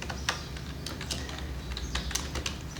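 Someone typing C++ code on a computer keyboard: steady, irregular key clicks at close range over a low background hum.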